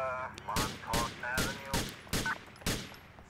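Six loud gunshots fire in an uneven sequence in a police video game, each a sharp broadband crack, with electronic tones and game-like effects humming between them.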